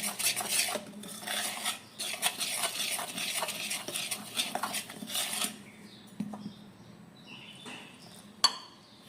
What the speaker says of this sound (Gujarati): ધીમે ધીમે પાણી નાખતા જઈએ ચમચાથી લોટ બાંધીએ